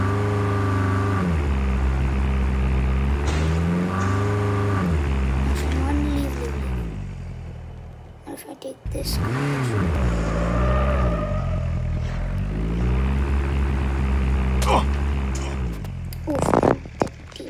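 A car driven in the Call of Duty video game, its engine droning and revving up and down with rising and falling pitch, loud and close, with brief knocks and bumps near the end.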